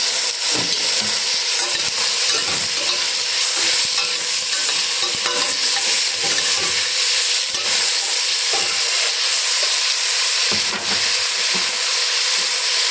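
Meat fries in a pan with a loud, dense sizzle and hiss that holds steady, broken by irregular stirring scrapes and utensil knocks, close and with no voices.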